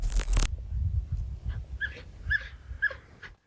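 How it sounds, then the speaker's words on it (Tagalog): Frightened dogs running from a forest whimper and yip. A loud rustling burst comes first, then a string of high, thin whines close by at an uneven pace. "Tumakbo palayo ang mga aso mula sa gubat. Na may takot. Halos umiiyak."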